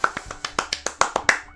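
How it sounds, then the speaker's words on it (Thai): A single person clapping hands quickly, about nine sharp, crisp claps in an even, fast rhythm, close and fairly quiet with no talking. "ปรบมือ"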